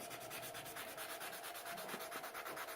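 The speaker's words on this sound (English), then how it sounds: "I'm just going to go in here with the sanding sponge and clean the rest of it up" Fast, even back-and-forth strokes of a sanding sponge rasp against a hard resin sculpture surface, close up and steady, with no talking.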